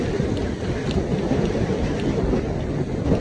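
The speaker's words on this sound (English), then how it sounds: "Just wanted to do a quick outro while the wind noise wasn't too bad." Heavy wind buffeting a microphone on an open golf course, a continuous low rumbling roar with no letup and no voices.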